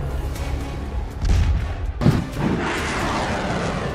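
Missiles launched one after another from a US Navy warship, heard as a deep booming roar that swells, breaks off, then surges again into a sustained loud rumble.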